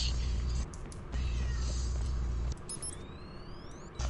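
A cat yowls in the Watch Dogs video game, a drawn-out meow rising over steady game background noise and rumble.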